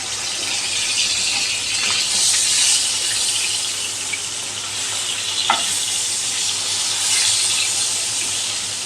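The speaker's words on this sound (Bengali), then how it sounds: "এবার আমি মাছগুলো উল্টে দিচ্ছি। খুব বেশি ভাজার প্রয়োজন হবে না," Katla fish pieces frying in a pan, a loud steady sizzle and bubbling of hot oil throughout, with a brief sharp crackle midway and no talking.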